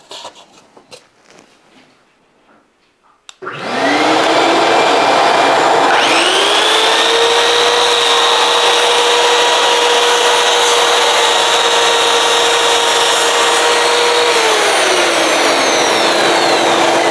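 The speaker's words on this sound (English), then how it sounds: "I'm going to cut this on the waist side, so I need to add the thickness of my saw blade" A track saw spins up and cuts through wood on the waste side of a marked line for a homemade square, a loud steady whining cut lasting over ten seconds after a quiet start, then holding on as the blade winds down.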